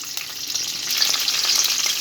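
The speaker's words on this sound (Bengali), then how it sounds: "কড়াইটা বসিয়ে তেলটা দিয়ে দিয়েছি তেলটাও গরম হয়ে গেছে এবারে দিয়ে দেবো গোটা পাঁচফোড়ন" Whole panch phoron spices sizzle and crackle steadily in hot oil in a wok, a close, continuous bright frying hiss with no voices.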